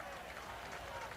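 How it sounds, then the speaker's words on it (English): A lacrosse game crowd roars steadily after a physical hit on the near sideline, a dense, continuous wash of cheering and noise that fills the whole moment. "The crowd enjoying that last hit"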